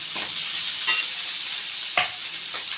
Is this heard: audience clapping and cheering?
no